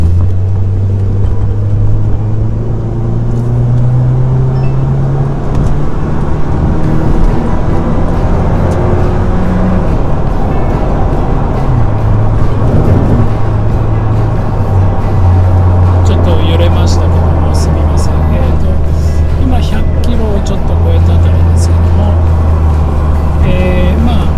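A custom Mazda NC Roadster RHT's 2000cc engine idles and revs in a low, droning hum, pitch rising and falling gradually, steady and close throughout with no talking.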